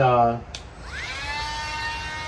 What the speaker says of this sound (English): I've got to grind back a little bit of paint off of here